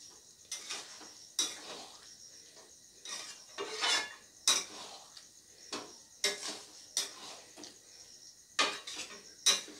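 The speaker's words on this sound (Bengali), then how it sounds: "তরকার ডালটা দিয়ে খুব ভালোভাবে নেড়ে চেড়ে সমস্ত কিছুকে একসাথে মিশিয়ে নেব।" Tadka dal with eggs being stirred in a pan, a spoon scraping and knocking against the metal in irregular clinks and scrapes, close and fairly quiet, with no talk.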